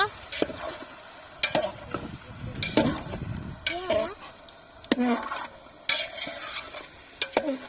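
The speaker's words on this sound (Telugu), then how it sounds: "ఇప్పుడైతే వేసినాము మంచిగా కలుపుతున్నాము" Curry with turmeric and ginger-garlic paste being stirred in a pan: repeated scraping and clinking strokes of a spoon against metal over a soft sizzle, with someone speaking between the strokes.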